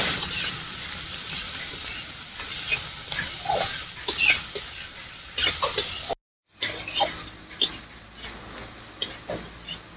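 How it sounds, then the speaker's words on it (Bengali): Sliced onions, about 400 grams, fry and crackle in hot oil for a chicken curry, with intermittent stirring scrapes and utensil knocks throughout and a brief silent gap midway. "আমি এখানে কিছুটা টাইম নিয়ে দেখুন এইভাবে পেঁয়াজটাকে ভেজে নিয়েছি।"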